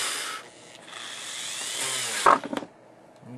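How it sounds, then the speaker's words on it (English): A rotary drill widens a hole in a workpiece for a homemade lightsaber, a short, close whirring and grinding burst that ends with a few rough scraping pulses. "I'm going to use a rotary drill to increase the size."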